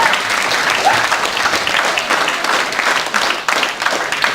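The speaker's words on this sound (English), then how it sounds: "Big round of applause for John, please" A crowd at a Christmas party awards night gives a loud, sustained round of applause for an award winner, dense clapping filling the room from start to finish with a few voices mixed in.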